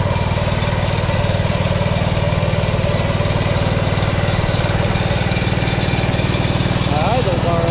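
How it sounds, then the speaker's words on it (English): An old Wisconsin engine driving a Leland alternator generator runs steadily outdoors, a close, even mechanical drone that holds without pause throughout. "The old generator's running good out here."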